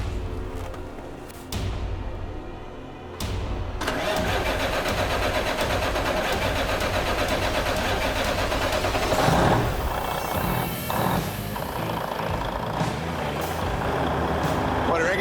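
A Western Star 4900 truck with a newly installed engine cranks and fires up, then settles into a loud, steady diesel idle close by, with a brief hiss and voices talking over the rumble.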